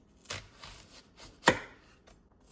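A knife chops an onion on a board for one-pot fried rice, a handful of sparse, crisp strikes with one sharper, louder cut near the middle, close and otherwise quiet.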